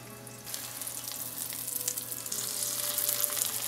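Chicken parmesan cutlets fry and brown in a hot pan, giving a steady, close sizzle that swells slightly louder toward the end, with no talking.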